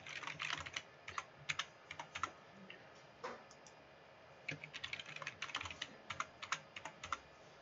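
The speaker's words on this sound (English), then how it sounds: "I'm going to type it again." Someone types on a computer keyboard nearby: fast bursts of crisp key clicks, a brief pause in the middle, then another flurry of tapping, quiet overall with no talking.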